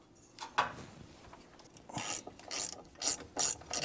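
A ratchet clicks in repeated bursts while bolts are backed out of a drum brake wheel cylinder on an International pickup, with short rhythmic pawl clicks rising and pausing at close range and no talking.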